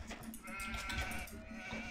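Sheep bleating in Age of Empires, a quiet, wavering animal bleat with repeated pulses lasting a couple of seconds, heard alone.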